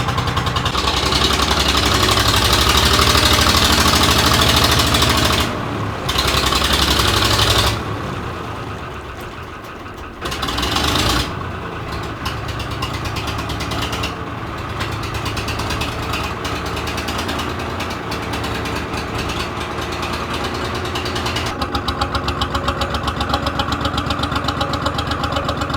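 A 3-cylinder Lister diesel engine on a flooded boat idles steadily and loudly up close, with a rapid knocking mechanical rhythm and a couple of brief dips in level.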